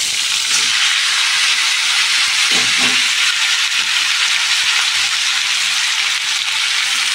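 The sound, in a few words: drumsticks sizzling in hot oil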